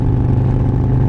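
A Harley-Davidson Milwaukee-Eight 114 motorcycle engine with an S&S 475 cam and Fuel Moto tune runs under light throttle at road speed, a dense, steady low rumble rising gradually without a break.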